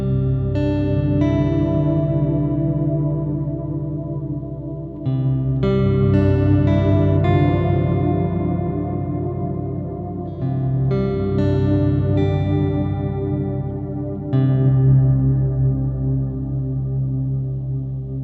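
An electric guitar runs through a Walrus Audio Stereo Slöer ambient reverb pedal in dark mode with the sub-octave raised, giving a deep organ-like tone. Sustained chords swell and ring out in long washes, with a fresh strum every few seconds.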